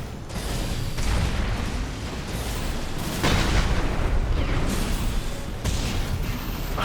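Missile explosions in the Armored Core 6 video game form a continuous roar of heavy booms and rumbling blasts, with surges of intensity and no talk.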